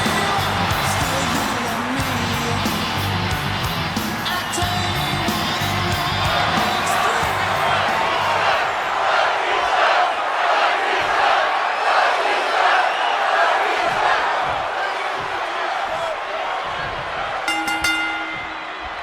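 Wrestling arena crowd in the WWE 2K26 video game cheering and roaring steadily, a dense wash of many voices that swells and fades, with a brief sharp burst near the end.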